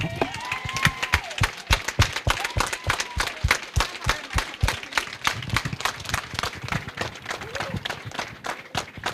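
A congregation stands and gives a rousing round of applause at a church anniversary ceremony, with rhythmic, sharp claps from many hands that stay steady and close throughout.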